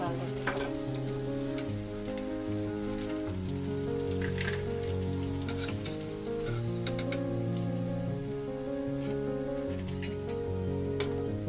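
Soya chaap pieces frying in hot oil until golden brown, giving a steady, close sizzle with scattered crackles over low sustained tones throughout.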